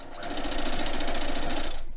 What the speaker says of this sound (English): sewing, there we are, and just sewing them along